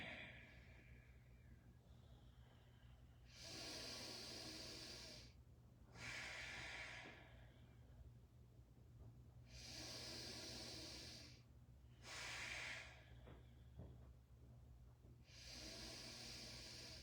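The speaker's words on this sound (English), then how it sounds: "This time it's 6 slow fire breaths." Slow, forceful yoga fire breaths during chair yoga: five or so long hissing exhales through the nose, evenly spaced with quiet pauses between, soft and close.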